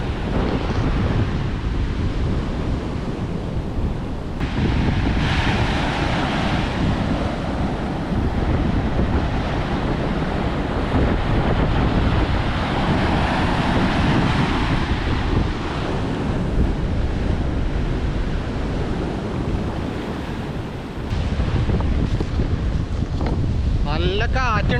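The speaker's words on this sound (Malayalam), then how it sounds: "അപ്പോൾ ഭയങ്കരമായിട്ടുള്ള കാറ്റാണ്." Strong wind blows hard across the microphone on an eroding seashore beside a breakwater, with a continuous loud roar and buffeting gusts over the wash of surf throughout.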